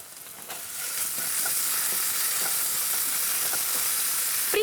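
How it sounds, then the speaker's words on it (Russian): Onion and minced meat with a spoonful of tomato paste fry in a pan, giving a steady, loud, close sizzle and hiss that swells slightly and holds throughout with no one talking. "В принципе, нормальная такая зажарка, правильно?"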